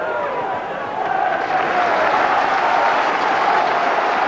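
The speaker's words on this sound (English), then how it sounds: "And the Hearts crowd immediately liking the enthusiastic start by the home side." A Hearts football crowd at home to Kilmarnock roars for the home side's lively start on a heavy pitch, a broad, sustained wash of cheering that swells after the first second and holds loud and steady.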